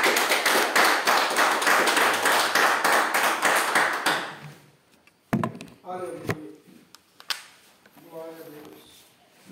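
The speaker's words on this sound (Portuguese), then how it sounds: "Com as palmas louvemos ao Senhor" A church congregation claps hands in praise for about four seconds, a dense rhythmic burst that then stops, followed by scattered taps and someone speaking.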